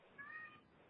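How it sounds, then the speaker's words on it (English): A cat meows at the doorway of a home office, a single short, faint cry heard on its own. "The cat is at the doorway to my office, and she's meowing about something."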